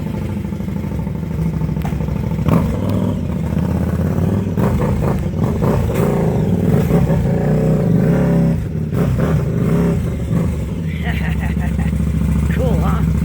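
A motorcycle engine revs loudly and continuously at close range, with people talking over it throughout.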